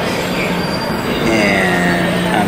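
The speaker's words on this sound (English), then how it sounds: "Oh, here's the train." An airport tram train rolls in with loud, steady rumbling and high metallic wheel squeals rising over it, close by, with no voices.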